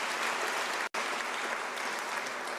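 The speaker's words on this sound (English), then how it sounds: "Can I please request a round of applause?" A round of applause at a university's academic-year closing ceremony, a dense, steady crowd clapping that fills the whole stretch with one brief dropout near the start.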